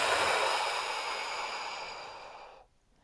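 One long, close, breathy exhale during a guided breathing exercise, a steady airy rush that slowly fades and then drops to silence near the end.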